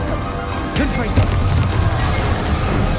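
Confringo explosive spell going off in Hogwarts Legacy, a loud booming blast with crashing debris amid dense combat noise and a warbling magical whoosh.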